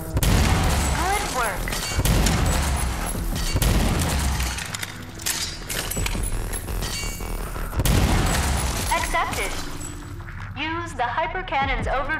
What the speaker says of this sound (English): the Hyper Cannon, a powerful weapon capable of charging a shot that can penetrate several enemies in a single trajectory